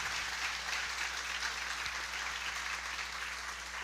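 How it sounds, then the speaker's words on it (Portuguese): Church congregation clapping steadily together, a faint, even wash of applause with no voices over it. "Se é para Jesus, dê uma salva de palmas maravilhosa e fala: obrigado por tua presença, Jesus."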